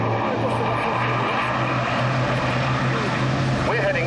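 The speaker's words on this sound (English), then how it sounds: "So as the last few aircraft get airborne" Propeller aircraft take off at the Fairford airshow, making a loud, steady engine drone with a low hum that continues through the whole stretch.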